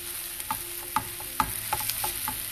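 Ground cashew, pepper and garam masala cook in a hot pan, a steady sizzle broken by a handful of sharp scraping stirs spaced through the clip, close and fairly quiet.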